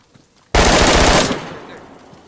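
A loud, close burst of machine gun fire in a multiplayer survival shooter video game cuts in suddenly and runs as one sustained volley of about a second before tailing off into a fading echo.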